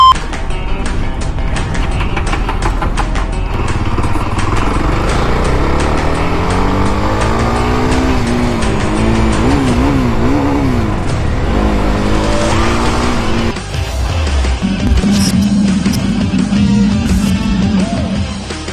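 A Jawa Bobber 42 motorcycle with dual exhausts and a front radiator revs hard on a test ride, the loud engine note rising and falling through gear changes and then settling into a steady lower throb.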